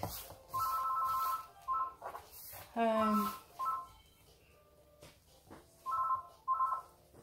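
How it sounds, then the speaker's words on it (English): A telephone rings indoors in a kitchen, its repeated electronic trills sounding in short bursts, moderately close, while a person talks over them. "Telephone's ringing, but I don't need to."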